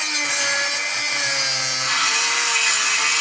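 An angle grinder cuts off a bolt on a Mercedes E55 AMG, a loud, steady, close high-pitched whine of the disc grinding metal that holds throughout with slight shifts in pitch as it bites.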